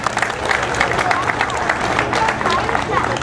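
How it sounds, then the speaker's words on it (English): A crowd at an evening city festival award presentation applauds Barry and his team of volunteers with steady, dense clapping at moderate distance, mixed with faint crowd murmur and occasional cheers. "a big round of applause, I think, for Barry and his entire team of volunteers"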